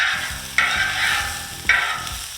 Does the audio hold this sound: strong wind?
no